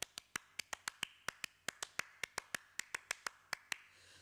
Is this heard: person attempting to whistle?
no